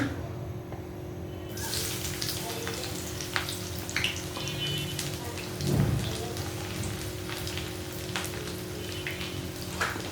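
Onions hitting hot oil in a pan for a kachki fish dish, giving a dense, even sizzle like rain that runs the whole time with a brief soft thump midway.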